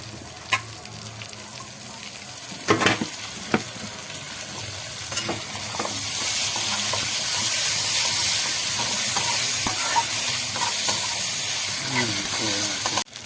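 Ginger and cumin paste frying in hot fat, a close sizzle marked by a few early clacks of a spatula, then swelling into a louder, steady spattering hiss with intermittent stirring.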